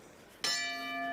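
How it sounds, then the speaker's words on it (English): At a live professional boxing match, the ring bell ends the third round with one sharp strike that rings out with a sustained metallic tone over a faint, quiet arena background. "There goes the bell."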